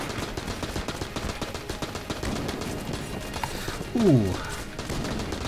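Rapid AK gunfire rattles in the video game Enter the Gungeon, a dense stream of sharp repeated shots throughout, with a brief vocal exclamation partway through.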